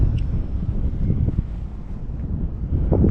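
Steady, strong wind buffets the microphone at an RC plane flying field, a continuous loud low rumble with gusty fluctuations and no other clear sounds.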